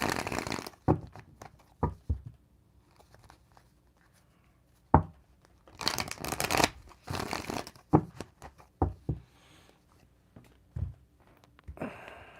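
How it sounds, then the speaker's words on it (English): Playing cards being shuffled in a quiet room, coming as several short riffling bursts and scattered sharp flicks separated by near silence, close and fairly soft. "I'm going to shuffle the cards"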